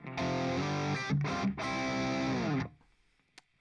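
Distorted electric guitar rings out a few paired-note double stops in fourths, sustained and gritty, then cuts off into a quiet tail with a faint click.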